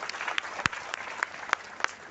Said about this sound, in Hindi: इनके लिए खुद के लिए तालियां।